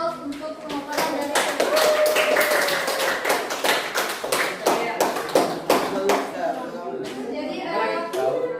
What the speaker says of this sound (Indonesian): Kita beri aplaus untuk pemaparan dari